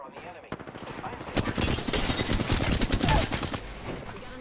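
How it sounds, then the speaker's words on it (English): Rapid automatic gunfire from Apex Legends, a dense burst of close, loud shots that builds after a single early crack and keeps rattling for a couple of seconds before tailing off. "Opening fire on the enemy."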